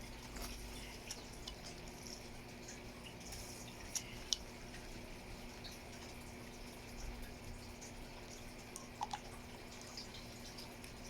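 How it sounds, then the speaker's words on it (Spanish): Water stirred in a container during aquarium pH adjustment, a faint continuous swishing with a few small clinks and splashes over a low steady hum. "Volvemos a revolver"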